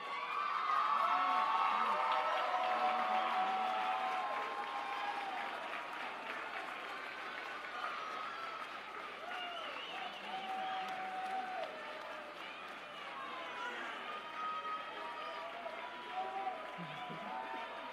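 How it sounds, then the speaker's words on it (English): Graduates rise and applaud their families and friends at a 2024 college commencement, a long crowd ovation that starts loudest and settles into steady clapping with scattered cheers and voices mixed in. "Will the graduates please rise and with a round of applause recognize family members and friends"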